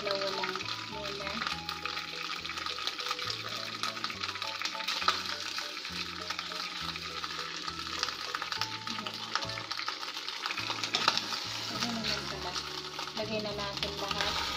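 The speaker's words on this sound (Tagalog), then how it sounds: "Para iprito na natin. Para maging crispy lang siya." Pig ears frying in hot oil until crispy, a steady dense sizzle with stirring running throughout, mid-loud and close, accompanied by low rhythmic background tones.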